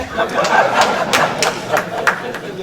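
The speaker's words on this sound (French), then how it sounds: "Au lieu de dire son nom, vous applaudissez." Scattered audience clapping at a political investiture ceremony, a loose run of sharp claps under crowd chatter and some laughter, moderately loud and close.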